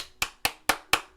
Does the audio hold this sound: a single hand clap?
yes